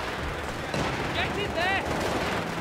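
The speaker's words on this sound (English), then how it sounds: "That machine gun! Destroy it!" Machine gun fire from a World War II real-time strategy battle in Company of Heroes 3, dense and continuous in the game mix, with shouted unit voice lines over the shooting.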